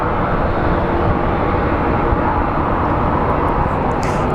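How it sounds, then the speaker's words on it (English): A steady, loud, broad roar from an American Airlines airliner arriving at Phoenix Sky Harbor, droning continuously throughout with no voices. "So it looks like we will get American Airlines 2543 coming in from San Diego on this side"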